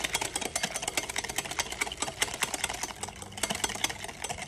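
Egg yolks being whisked quickly by hand while oil goes in for mayonnaise, a rapid, busy clicking and rattling of the whisk against the bowl, close and continuous with no talking.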